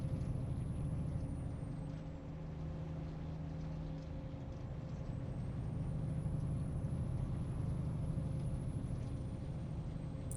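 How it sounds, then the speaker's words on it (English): A Peterbilt 579 truck drives steadily in American Truck Simulator, its engine a constant low drone with a faint high whine rising and falling, and no talk. "I have switched to what I'm calling my company-issued Peterbilt 579"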